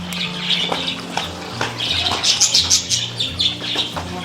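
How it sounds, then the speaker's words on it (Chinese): Small birds chirp and squawk in quick, overlapping bursts, close by and lively, with a low hum underneath. "那些小鸟都在叫，一直叫。"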